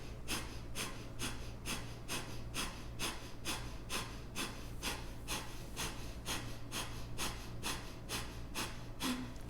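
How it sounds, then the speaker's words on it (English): Breath of fire yoga breathing done strong and fast: a rapid, even train of about twenty sharp, forceful exhalations, close and clear, over a faint steady background hum. "So the breath of fire can be done very strong and very fast,"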